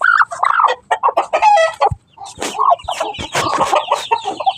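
A hen clucks repeatedly up close in a lively, uneven series of calls with brief pauses, no talking over it.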